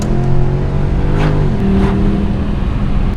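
A 2011 Mercedes C63 AMG is driven on the road, its engine a deep, steady drone heard from inside. The pitch drops and settles partway through as it shifts, with no speech over it.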